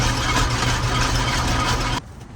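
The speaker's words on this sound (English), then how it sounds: "I'm here with the tractor" A tractor engine idles with a loud, steady, rumbling drone that cuts off abruptly near the end, leaving faint background.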